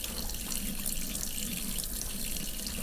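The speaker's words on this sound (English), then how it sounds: "As you'll notice, I'm rinsing all the time here." Squirrel meat being rinsed under a running kitchen tap, a steady close hiss and splash of water into a sink throughout.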